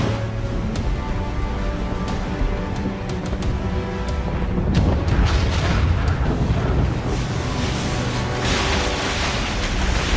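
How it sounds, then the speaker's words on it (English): Ship cannons fire in a naval battle in the video game Assassin's Creed Rogue, giving loud repeated booms and blasts over a rumbling sea. "Man the cannon!"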